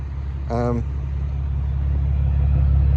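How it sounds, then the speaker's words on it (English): A 3.5-litre Mercedes SLK with a six-speed manual gearbox and an aftermarket four-pipe exhaust idles nearby, a steady, deep rumbling drone that holds throughout, with a short voice near the start. "It's got some aftermarket 4-pipe exhaust on it. Don't know what it is. Sounds pretty good."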